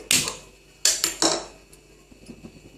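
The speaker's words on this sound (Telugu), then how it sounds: "ఫస్ట్ స్టవ్ ఆన్ చేసి" A gas stove is switched on with three sharp, close clicks of the knob and igniter, two of them quick in succession. Faint small clatter follows in a quiet kitchen.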